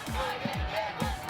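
Softball players' coordinated cheer, a group of voices shouting together in a steady rhythmic chant, loud and close, with a few punchy beats in quick succession.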